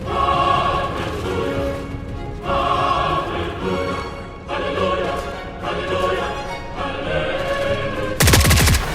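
Gunfire from enemies fighting each other in a tunnel in a video game, repeated bursts of shots echoing at mid distance in uneven clusters, ending with a sharp, loud close shot.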